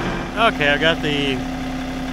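A John Deere 4075R compact tractor engine idles steadily near a pond, a low continuous hum running under a man's brief speech.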